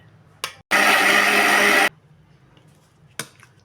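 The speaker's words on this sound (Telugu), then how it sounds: "బాగా మెత్తగా మిక్సీలో వేసేసుకోవాలి" A kitchen mixer grinder blends cooled tomato pickle into a smooth paste, one loud continuous whirring burst of about a second, framed by short clicks and quiet moments.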